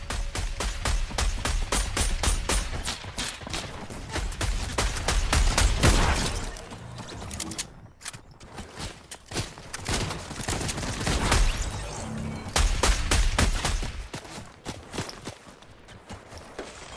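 Automatic sniper rifle fire in a shooter video game: loud, rapid bursts of sharp shots in quick succession, broken by brief pauses between volleys, with no talking.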